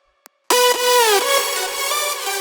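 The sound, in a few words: individual synth lead sound in FL Studio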